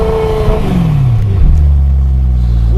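A 2011 BMW M3 V8 engine revs up and falls back, its pitch sweeping down before settling into a loud, throaty idle close by.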